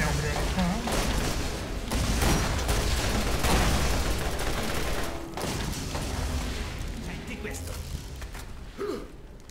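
Gunfire and mechanical weapon noises from the video game Borderlands, played in a cave level, run loud and dense throughout with someone talking over them, the action easing slightly near the end.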